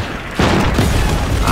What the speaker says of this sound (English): Rifle grenades.